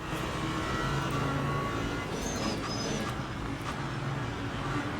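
A Ferrari race car engine in the Le Mans Ultimate racing game drones steadily and loudly, holding a sustained tone with slight pitch shifts and no pauses.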